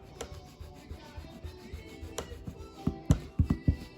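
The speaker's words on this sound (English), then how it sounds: "Clean your eraser often on the sandpaper." An eraser being scrubbed clean on sandpaper, producing close, dry scratchy rubs with light taps that grow sharper and more frequent toward the end.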